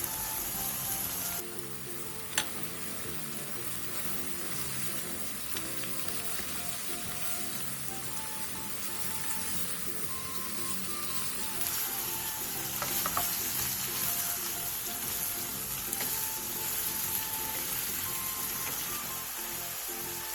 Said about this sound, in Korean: 그 다음 숙주와 대파를 넣고 30초에서 1분 정도 뒤적여가며